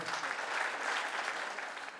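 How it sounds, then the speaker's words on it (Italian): Soft, steady applause from an audience at a fashion show at Caesar's, a brief continuous patter of clapping at a fairly faint level. "un bel applauso anche per loro"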